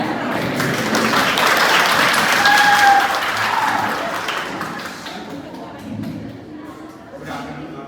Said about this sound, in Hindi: ताली तो मारो।